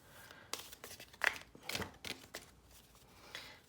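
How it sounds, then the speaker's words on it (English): Large oracle cards being shuffled by hand, giving a series of soft papery slaps and crinkly riffles at close range, fairly quiet and uneven, with no talking. "A little awkward to shuffle because they are large."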